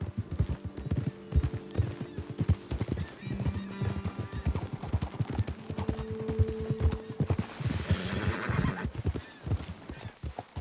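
Horses in Red Dead Redemption II gallop over rough ground, their hooves pounding in a dense, close clatter while a horse whinnies and snorts partway through.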